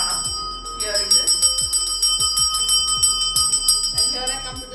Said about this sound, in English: I'm continuously ringing the bell.